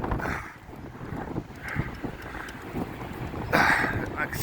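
Gale-force wind blasting along the Blackpool seafront, heavy buffeting gusts roaring across the microphone in surges, with a voice speaking briefly amid the rumble.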